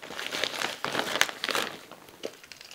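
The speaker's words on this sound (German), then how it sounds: "Ich packe mal alles in die Tüte." Screws and small parts are packed into a plastic bag on a house-building site, giving a run of uneven crinkling and rustling bursts, close and moderately quiet, with no talking.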